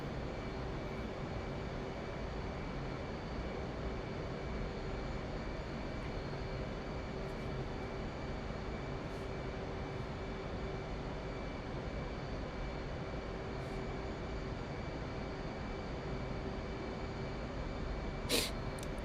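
F/A-18 Hornet jet engine in DCS World, a steady broadband roar with a constant whine, holding even and unbroken at throttle on a gear-down, flaps-down landing approach.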